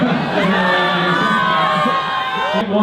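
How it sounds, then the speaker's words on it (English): A large live crowd cheers and whoops continuously at a public rally, loud and close, with children's shouts mixed into the sustained roar. "One more time, can I get a big cheer?"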